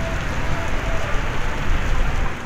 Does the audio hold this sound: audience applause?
no